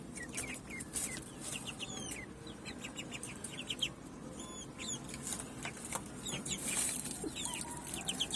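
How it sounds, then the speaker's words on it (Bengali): Chickens, including Kadaknath hens, clucking on a small farm, with repeated soft clucks and chirps scattered over a faint steady background. "এই দুটো হচ্ছে কাদারনাথ মুরগি"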